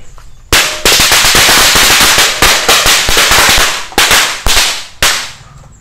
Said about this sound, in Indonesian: kita nyalakan semua merton Corsair di atas wajan spesial ngabuburit Ramadan 2024